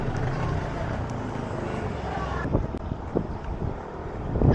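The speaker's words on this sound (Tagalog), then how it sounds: "May hangin pa rin." Steady wind rush buffeting the microphone of a cyclist climbing a long road ascent, loud and continuous with a few thumps, and no voices.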